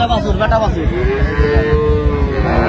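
A cow, one of those sold with calves at the Ranigonj haat in Dinajpur, gives a long, loud moo that slides in pitch. It sounds close and stands clear above the dull market murmur.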